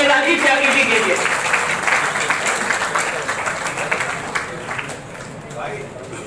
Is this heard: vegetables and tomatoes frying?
no